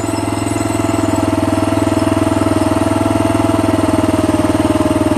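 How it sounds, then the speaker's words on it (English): A small Baja mini bike engine, an Iron Horse model from Canadian Tire, runs loud and close with a heavy rider aboard. It has a rapid, rhythmic pulsing drone that holds steady throughout. "That's a 240-pound man riding on the back of a little mini bike from Canadian Tire."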